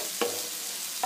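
Tomato masala frying in a pan for a Punjabi pumpkin sabzi, a steady soft sizzle with two brief spoon clicks against the pan, quiet and close, no voices.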